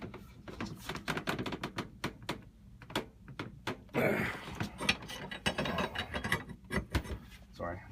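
Metal wrench clanking and ratcheting against a Yamaha SHO personal watercraft impeller during an impeller change, with a steady run of sharp, close metallic clicks and knocks, then a louder stretch of scraping from about the middle onward.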